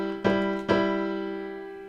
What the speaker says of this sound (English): The sixth sounds like this.